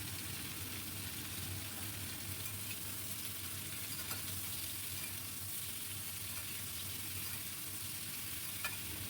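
Fish egg curry masala frying in a pan while being stirred, giving a steady, even sizzle with faint scraping, continuous and fairly quiet, with no voices.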